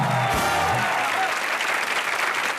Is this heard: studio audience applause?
yes